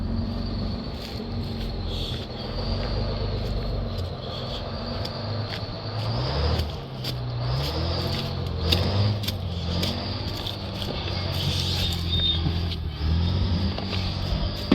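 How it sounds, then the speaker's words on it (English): An old Eimco dozer's engine runs steadily throughout, a loud, continuous rumble with rattling and clanking, heard close up as the machine rides roughly over mountain terrain. "Rough riding tractor."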